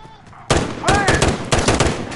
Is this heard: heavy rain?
no